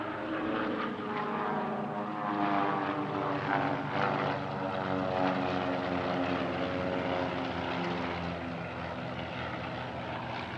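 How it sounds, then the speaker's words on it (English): A formation of Royal Australian Air Force propeller monoplane training aircraft, led by a Commonwealth Aircraft Corporation CA-3 Wirraway, passes over at a warbird air show with a steady droning engine roar that swells and slowly fades. "a formation of monoplane training aircraft used by the Royal Australian Air Force over the years."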